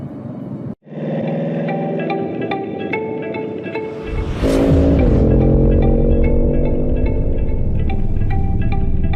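A Bugatti Chiron accelerates hard toward top speed, its engine roaring loud and close with rising harmonic tones, a brief drop before a deeper, more powerful surge that holds steady and intense to the end.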